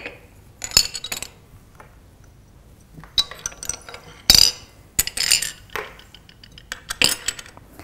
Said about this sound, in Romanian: prima dată, voi plasa câteva pietre și scoici și melci aici la bază